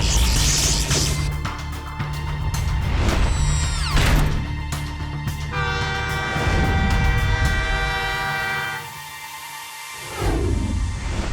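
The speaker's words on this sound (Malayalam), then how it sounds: "അങ്ങോട്ട് നോക്ക്, ട്രെയിൻ വന്നോണ്ടിരിക്കുകയാണ്." Cartoon train approaching with a loud sustained horn blast over rumbling wheels, the horn and rail noise building and continuing steadily for several seconds before briefly dropping away and returning.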